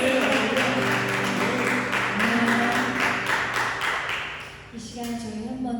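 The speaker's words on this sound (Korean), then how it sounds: "하나님께 영광의 박수를 드리겠습니다" A church congregation at a Korean worship service breaks into a loud wash of applause with faint rhythmic pulses, fading away after a few seconds as a single voice begins speaking over the hush.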